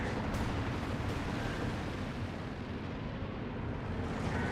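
A British incendiary mortar barrage lands in the Company of Heroes 2 strategy game: a continuous, distant-sounding rumble of blasts and burning, fairly faint and unbroken for several seconds.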